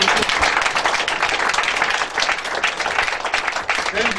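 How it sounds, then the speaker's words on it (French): Church congregation applauding and cheering for Jesus, dense sustained clapping with crowd voices mixed in, loud and close throughout. "Est-ce qu'on peut acclamer Jésus-Christ?"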